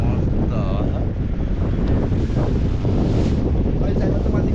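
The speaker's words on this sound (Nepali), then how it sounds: "एकदम हावा नि मस्त लागेको" Strong wind buffets the microphone during a paragliding flight over Pokhara, Nepal, producing a loud, continuous roar and rumble that fills the whole stretch.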